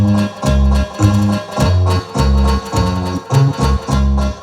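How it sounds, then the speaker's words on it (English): Keyboard style accompaniment with banjo and bass parts: a bouncy, evenly paced pattern of plucked banjo chords over a deep bass line, loud and close, with short gaps between phrases and no voices. "It's just a banjo and the bass player."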